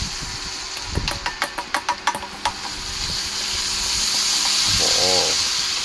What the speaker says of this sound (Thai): ทำการผัดคลุกเคล้าใบกระเพรากับส่วนผสมต่างๆ เนี่ยให้เข้ากัน